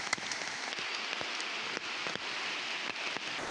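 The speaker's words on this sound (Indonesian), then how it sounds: "Diterjang hujan deras di saat membangun rumah bambu" Heavy rain pours over a riverside bushcraft campsite during construction of a bamboo shelter, a dense continuous hiss with scattered sharper drops tapping on surfaces nearby.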